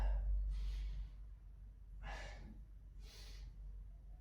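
Labored breathing during a static stretch held at end range: three strained, breathy gasps spaced about a second apart, close and faint, over a low steady hum.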